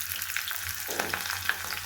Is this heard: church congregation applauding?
no